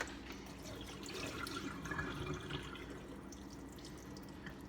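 Water trickles and drips from freshly rinsed rice in a kitchen, a soft, close, continuous dribble with a slight swell in the middle and no talk over it.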